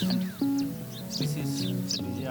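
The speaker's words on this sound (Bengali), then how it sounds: "আশেপাশে প্রচুর পাখির কিচিরমিচির শব্দ শোনা যায়" Faint, short bird chirps dot the background over a low hum, a few quick tweets scattered across a couple of seconds.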